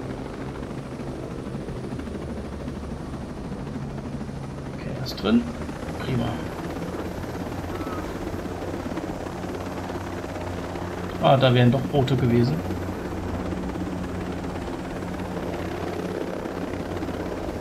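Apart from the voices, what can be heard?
helicopter flying, from video game Operation Motherland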